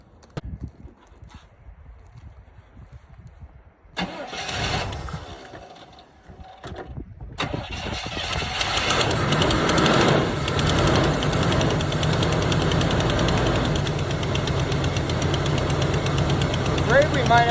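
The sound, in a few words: 1977 Chevy Camaro engine starting and knocking, possible stuck lifter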